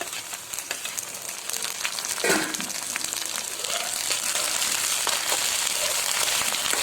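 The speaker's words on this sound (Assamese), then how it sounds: "মই এতিয়া মাছৰ কণীখিনি দি দিম।" Fish roe and browned onions fry in a pan, a steady close sizzle and crackle with a sharper burst as the roe goes in, continuing evenly throughout.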